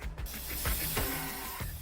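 Spray painting in the video game InFamous Second Son: a continuous, fairly loud hiss of a spray can with a few faint mechanical clicks and rattles over it, with no voices.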